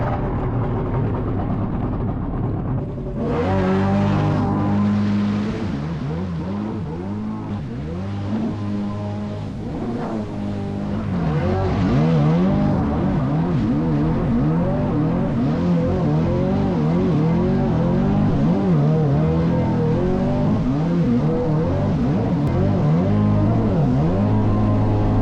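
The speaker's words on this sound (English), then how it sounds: "That's how you break in an engine. Full throttle, rage mode." A high-revving jet ski engine, a Sea-Doo SVT with rebuilt crankshaft, roars continuously at full throttle, loud and close, its pitch rising and falling as it surges through the water.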